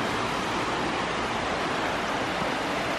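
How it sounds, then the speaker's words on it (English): A small waterfall in a rocky canyon gives a steady, broad rushing hiss of falling water that stays even and unbroken throughout, with no voices. "There's a little waterfall there."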